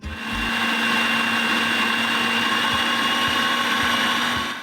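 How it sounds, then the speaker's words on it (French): A food processor whirs steadily as it blends a creamy carrot spread, a loud, even motor drone that sits close and runs unbroken. "On allume le robot."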